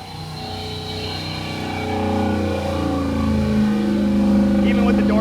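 Engine running hard in a dyno cell with straight 3-inch collector headers, a loud close mechanical roar that builds gradually over several seconds, with people talking beneath it.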